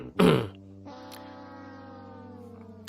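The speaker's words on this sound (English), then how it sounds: "Gotta clear my throat on that one." A man clears his throat with one harsh burst, followed by a sustained low harmonic hum, close and fairly quiet, with no speech.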